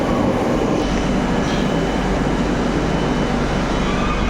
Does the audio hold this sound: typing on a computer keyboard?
no